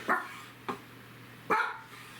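Three short barks from a dog in a kitchen, fairly close and distinct, with brief pauses between them and quiet room tone underneath.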